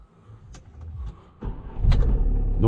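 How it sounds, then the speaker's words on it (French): A Chrysler Sebring 2.0 CRD diesel starting: a few faint clicks and shuffles, then the starter catches and the engine settles into a steady, close idle rumble. "donc je vais démarrer la voiture."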